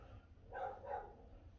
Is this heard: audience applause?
no